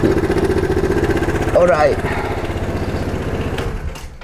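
Royal Alloy Tigara Grande 250S scooter engine running steadily nearby, a throbbing idle under a voice that briefly speaks over it.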